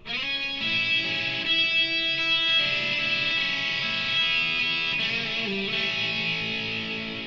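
A distorted electric guitar plays a short lead lick from a solo, with open strings and hammer-ons ringing in sustained, overlapping notes at moderate volume.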